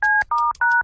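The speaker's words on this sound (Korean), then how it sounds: "잠깐 있어봐. 전화 좀 걸게." Three short touch-tone dialing beeps from a telephone being dialed, loud and close, each dual tone lasting about a quarter second with brief gaps between them.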